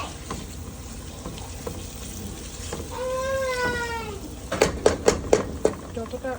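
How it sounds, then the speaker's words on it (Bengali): Tomatoes, chili and cumin powder stir-fried in a pan, heard as a low steady sizzle, then a rising drawn-out whine partway through and a quick burst of spoon clatters near the end. "ভালো মতো কষাচ্ছি ভালো মতো করে নেড়ে নিতে হবে কষাতে হবে আর টমেটো দিয়েছি"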